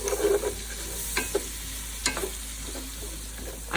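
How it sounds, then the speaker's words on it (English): Onions sizzle in a soup pot on the stovetop, a quiet steady frying hiss broken by a few soft scrapes and clicks of stirring, with no talking. "I'm going to add my onions. And we're gonna let those onions caramelize"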